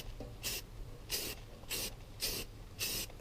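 Five short, evenly spaced bursts of primer spray paint hiss onto a motorcycle gas tank, each a brief close pass with quiet gaps between, no voices.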